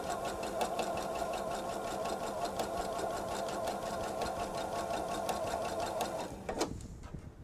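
A sewing machine stitches straight across quilt fabric for a Veterans Day quilt, giving a steady, fast mechanical whir with rapid regular ticking, close and continuous, before stopping abruptly near the end.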